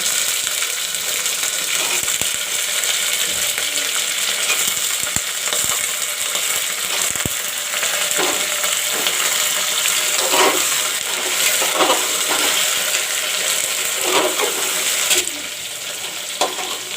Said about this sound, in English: Now I will put in the potatoes and the brinjal.